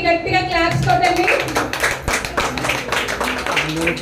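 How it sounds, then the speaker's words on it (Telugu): Students and audience at a tuition centre celebration clap together, a dense patter of hand claps mixed with a raised voice speaking over them throughout. "సో ఒకసారి అందరికీ గట్టిగా క్లాప్స్ కొట్టండి"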